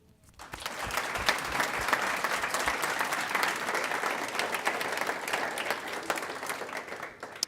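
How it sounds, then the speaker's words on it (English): Graduation audience applauding for a graduate welcomed into Phi Theta Kappa at a 2016 academy ceremony, a dense, steady wash of many hands clapping that starts abruptly and holds at full strength throughout. "Please join me in giving George a round of applause for his hard work and dedication"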